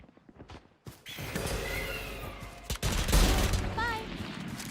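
Valorant gunfire rattles in bursts during a competitive match, mixed with clicks and game effects while a caster talks over the action.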